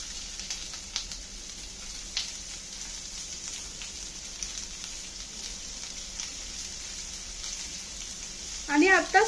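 Chopped onion and grated coconut fry in a spoonful of oil for misal pav: a steady, soft, even sizzle held close throughout, with a brief voice breaking in at the very end.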